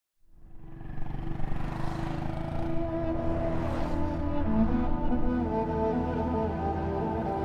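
A Royal Enfield Himalayan motorcycle engine starts and settles into a steady, close, rumbling idle with an even low thrum and faint higher mechanical whine, holding constant without revving.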